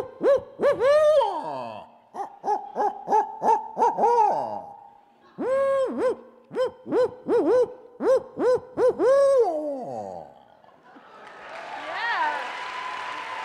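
A person imitates a barred owl's call at a live show, giving repeated rhythmic hooting phrases in bursts, loud and close, followed by a swell of audience applause.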